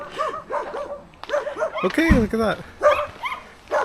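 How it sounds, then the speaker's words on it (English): A small puppy yips and barks in short, high bursts, close by and loud, with someone talking over it outdoors. "Oh, little puppy."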